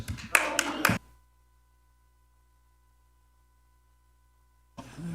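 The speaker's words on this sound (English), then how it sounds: "We're not supposed to have applause," Brief applause at a county board of commissioners meeting, a second of a few sharp, close claps that stop abruptly into near silence before room noise returns at the end.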